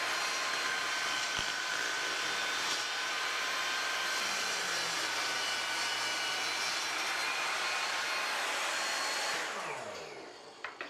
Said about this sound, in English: You get to be here for the very first cut on this new table saw.